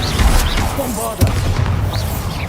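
A Bombarda spell explosion in Hogwarts Legacy lands as a loud booming blast, with a sharp crack around the middle followed by a rumbling, debris-laden tail over steady low battle noise.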